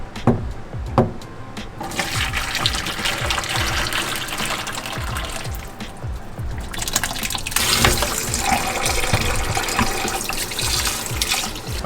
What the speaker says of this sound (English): Rinse it in cold water.